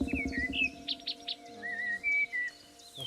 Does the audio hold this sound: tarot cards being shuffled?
no